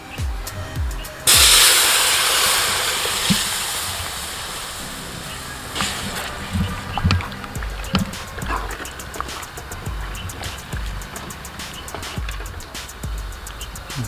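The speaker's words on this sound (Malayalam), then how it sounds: "പുളിയുടെ വെള്ളം അതിലേക്ക് ഒഴിച്ചു കൊടുക്കും കേട്ടോ" Tamarind water poured into a simmering Kottayam-style fish curry makes a sudden loud rushing splash, then a steady hiss and bubbling that fades slowly, with faint clinks and thuds from the pot.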